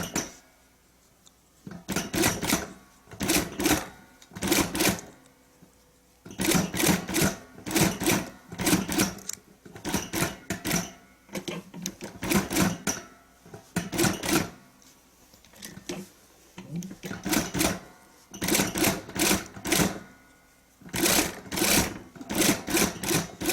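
A sewing machine stitches piping onto fabric in quick rattling bursts of a few seconds each, broken by short pauses where the needle stops to turn the fabric around curves, close and clear with no talking.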